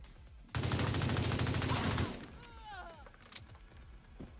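AUG assault rifle in The Division 2 video game firing one loud rapid burst of about a second and a half, followed by quieter scattered game sounds, with a voice speaking briefly afterward.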